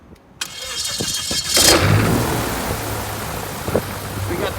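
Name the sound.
Viking 130 hp aircraft engine on Aero Adventure Aventura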